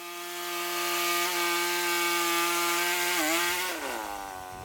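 A small sawmill cuts through a 12-foot log, the blade's steady, droning whine holding an even pitch before it shifts and bends near the end, loud and close with no voices.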